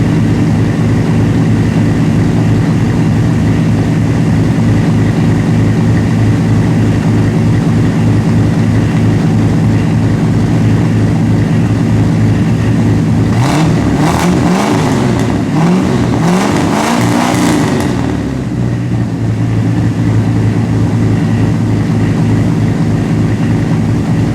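A 1964 Ford Galaxie with a 289 V8 idles loud and steady with a deep, even rumble, then is revved through several rising and falling surges before it settles back to idle.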